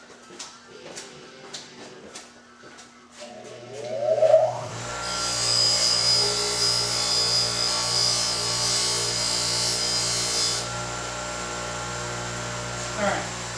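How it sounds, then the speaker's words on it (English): A regular metal punch has its point sharpened on a powered grinder, a few taps and handling sounds, then a motor spinning up into a steady close whirring grind for several seconds before winding down. "let me go sharpen the point up a little bit"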